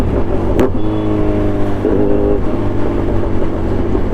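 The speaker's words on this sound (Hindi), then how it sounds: "लो छठे गियर पे चला रहा हूँ" A Kawasaki Z1100 motorcycle cruises in sixth gear on an open college road, its engine giving a loud, steady, close drone with a slight rise and fall in pitch.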